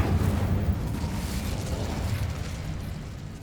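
Bombarda spell explosion in the video game Hogwarts Legacy, set in a catacomb: a loud, dense blast of rumbling debris that fills the whole moment and slowly decays, with no voices over it.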